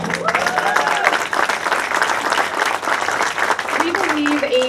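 Loud crowd cheering and applauding at a hospital ribbon-cutting ceremony, sustained clapping and shouts filling the whole stretch at a steady, dense level, with a few voices rising over it near the end.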